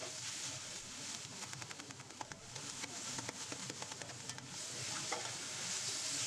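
Tomatoes sauté with onion and masala for a prawn biryani, a continuous dense sizzle with quick irregular spatula scrapes ticking through it, close and fairly steady, no voices.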